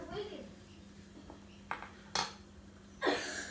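Fork clinking against a dish while French toast is made, a few sharp metallic taps and scrapes spaced apart, near and fairly quiet, with a voice nearby.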